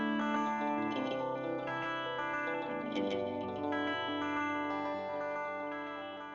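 Sustained tone passes through a delay effect, each phrase returning as distinct repeated echoes that smear and layer over one another, fading slightly toward the end with no voice present.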